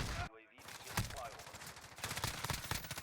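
Rapid gunfire crackles in a Modern Warfare multiplayer gunfight with an M13 rifle, dense bursts of shots, loud and close, with a brief gap early and game sounds between.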